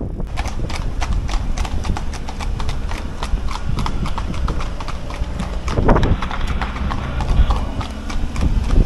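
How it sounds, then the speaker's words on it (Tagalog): Several horses run along a road while being chased by police, their hooves clip-clopping in a rapid, continuous patter that stays loud and close, with faint background voices. "Mga kabayo na yan, inahabol ng pulis eh"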